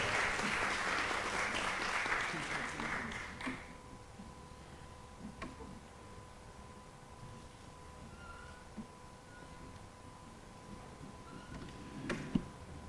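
Audience applause at a cultural gathering in El Peñol, Antioquia, moderately loud for the first few seconds, then stopping abruptly and leaving quiet room tone with a few faint knocks.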